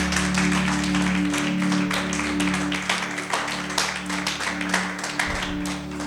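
A church congregation applauds in a steady, dense wash of clapping that carries on for several seconds, with a low organ-like drone and hum running underneath.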